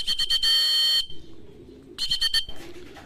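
Racing pigeons arrive at a loft during a special training in Cabanatuan, Nueva Ecija, with soft low cooing between bursts of a sharp electronic beeping, likely the arrival clocking system. Two clusters of beeps frame the quiet coos, all close and brief.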